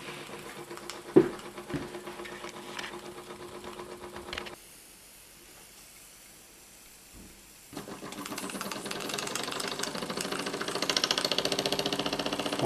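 A small model steam engine running, a fast mechanical clatter close by that cuts out for a few seconds and then starts again louder and busier, with no talking.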